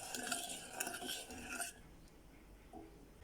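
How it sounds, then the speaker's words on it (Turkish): Sugar, water and other ingredients being stirred together in a bowl for a no-bake summer cake, a busy scraping and clinking of utensil against the bowl for about a second and a half, then quiet. "İlk önce bu üç malzemeyi pürüzsüz bir kıvam alana kadar karıştırıyorum"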